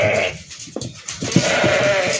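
Several goats bleat close by in a short run of overlapping calls, some high and nasal, over a steady background hum.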